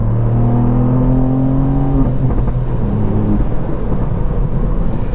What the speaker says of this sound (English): if you plant your foot straight on the throttle, you are just going to get a load of wheel spin